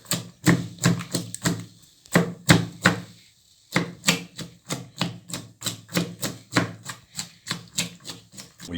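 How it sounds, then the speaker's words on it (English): A pomegranate is smashed to release its juices with a long series of sharp, rhythmic thuds and knocks. A short pause breaks the pounding before it resumes at an even, steady pace, close up and without talk. "Now we smash the pomegranate and let the juices get out of it."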